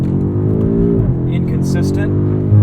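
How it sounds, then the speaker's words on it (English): A 2021 BMW M5 Competition's engine drones steadily from inside the car, its pitch dipping as it eases off, followed by a short cluster of sharp exhaust pops and crackles. "I love the pops from this exhaust."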